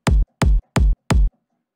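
A kick drum sample plays four times in an even pulse, each a punchy, heavy thump with a short decay and brief silence between hits, loud and dry.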